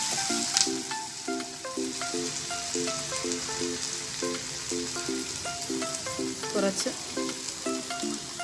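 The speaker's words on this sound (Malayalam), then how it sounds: "നേരത്തെ ഫ്രൈ ചെയ്ത് വെച്ച ചിക്കനിൽ ഇതിൽ ഇട്ട് നല്ലപോലെ ഇളക്കി കൊടുക്കാം." Pre-fried chicken stirred into sizzling masala in a pan, a constant close hiss of frying under background music with occasional spoon scrapes, and a voice speaks briefly.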